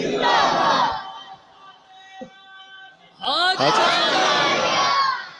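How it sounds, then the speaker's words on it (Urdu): At a Muharram religious gathering, a large crowd roars a chanted slogan in unison, loud and reverberant, then falls away to a held tone before a second swell of massed voices rises and sustains. "دیکھو پیچھے سے نعرہ لگا"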